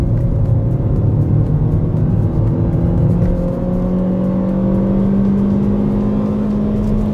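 A new Chevrolet Joy car accelerates hard through its gears, its engine roaring loud and close with a rising whine that climbs in pitch as the revs build, and no talking.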